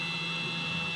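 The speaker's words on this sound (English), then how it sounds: "do y'all hear how quiet it's cutting?" An XTOOL M1 cutting machine runs quietly, a steady low hum and faint whir with tonal buzzing, unchanging throughout, no voices.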